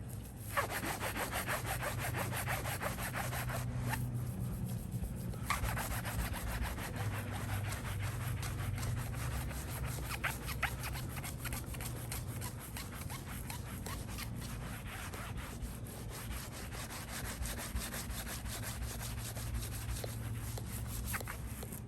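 Clay bar rubbing over a car's painted hood, a steady rhythmic back-and-forth scraping friction sound at moderate loudness with no talking.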